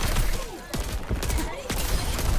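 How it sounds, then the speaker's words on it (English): Emre's burst-fire pistols in Overwatch shoot in quick sharp bursts, two loud clusters of cracking shots over a busy game background, close and punchy. "When you press this button, you have to press each pistol individually."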